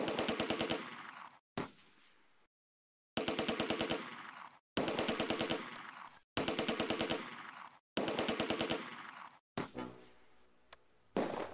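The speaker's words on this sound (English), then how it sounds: "Under heavy fire." Heavy machine gun fire in the WWII strategy game Close Combat: A Bridge Too Far, on the Arnhem approach: six or so loud, rapid bursts of rattling shots, separated by short silences, with no voices.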